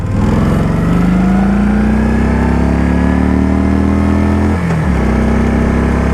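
A 2023 Kawasaki Vulcan Voyager 1700 touring bagger rumbles loud and close under way, its deep steady engine drone rising slightly in pitch, then briefly dipping as though shifting gears before droning on.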